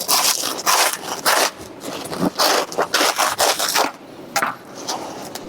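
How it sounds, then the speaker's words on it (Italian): Rhythmic rasping, crackling strokes of a knife sawing through the crisp crust of a high-hydration biga bread loaf, close up, in a series of short scraping bursts. "Adesso lo tagliamo, sentite come canta."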